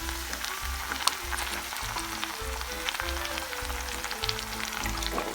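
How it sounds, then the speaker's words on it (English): Spaghetti sauce poured into a pan of melted butter, a steady close sizzle and bubbling hiss with a low rhythmic hum underneath. "I'm going to add my sauce right now."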